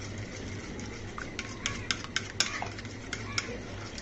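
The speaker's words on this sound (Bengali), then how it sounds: "এই পর্যায়ে আবারও নেড়ে চেড়ে দিব।" A utensil stirs a yeast-raised dough mixture in a pot, giving soft scraping strokes and a few sharp clinks against the side, moderately close, over a low steady hum.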